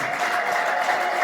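An audience applauds with a steady, dense clapping that stays even in volume throughout, with no voices rising above it.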